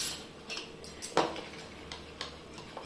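Boondi batter tinted with a little red colouring is mixed in a bowl, giving a few light, scattered clinks and taps of a utensil against the dish at a quiet level.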